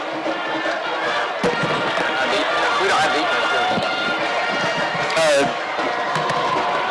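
Crowd noise at a 2010 high school football game between Malvern and Bauxite, a steady murmur of chatter and cheering from a packed stand before kickoff, with a voice speaking over it throughout.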